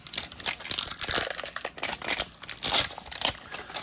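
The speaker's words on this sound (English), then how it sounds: "we just rip it away" Zuru Smashers Dino Island Skeletal Dinos toy packaging ripped open by hand, a close, continuous burst of crinkling and tearing plastic with rough, uneven crackles throughout.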